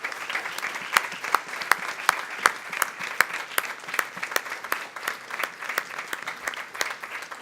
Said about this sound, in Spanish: Aplauso para mis amigos de la mesa